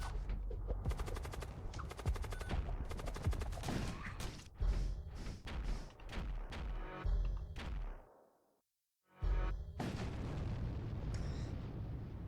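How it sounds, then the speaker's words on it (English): The Zeus cannon in the space combat game Void War fires in rapid, booming blasts, a loud run of heavy impacts and crackling bursts that cuts out briefly to near silence before the barrage resumes. "this Zeus cannon just blasting these dudes"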